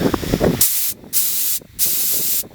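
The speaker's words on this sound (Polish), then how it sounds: "tutaj syczy, bo to jest jeszcze niezkręcone" Air hisses loudly from an unsealed fitting on a REDATS portable tire inflator, coming in long steady bursts with short breaks between, close up.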